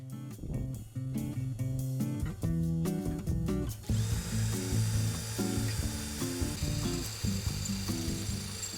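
A power drill bores a hole in a workbench for mounting a bench grinder, the motor whining in bursts that start and stop, then running steadily with a bright, grinding tone, close and loud.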